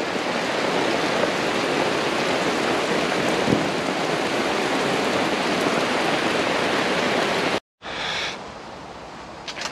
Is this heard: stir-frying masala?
no